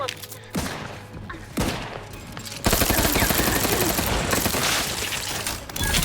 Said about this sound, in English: It makes sense because I'm literally shooting explosives